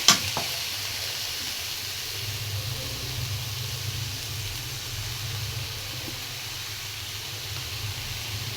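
Okra frying in a pan, with a steady close sizzle and hiss throughout, a brief knock at the start and no talking.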